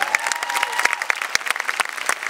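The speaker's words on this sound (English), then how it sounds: "So give her a round of applause." Audience applause at the 2019 Tupelo Festival, many hands clapping in a lively, dense patter with sharp individual claps standing out. A faint sustained tone runs underneath early on.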